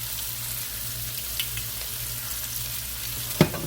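Olive oil heats in a pot for a seafood stew, giving a soft, steady hiss with a low hum beneath and a single sharp clink near the end.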